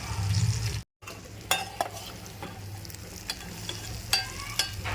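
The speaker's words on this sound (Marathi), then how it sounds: "मस्त आता मिक्स करून घेऊया आणि झाकण ठेवूया म्हणजे वाफेवर शिजतील" Stuffed chillies cooking in a pan are stirred, giving a steady sizzle with several sharp scrapes and clinks of the spoon against the pan, close and fairly loud, with one brief dropout near the start.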